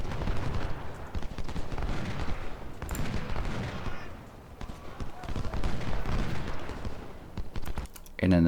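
Musket volleys ring out during a Civil War battle near Corinth in Ultimate General: Civil War, with dense, repeated crackling gunfire rolling almost continuously and a few sharper reports standing out, while someone talks over the din.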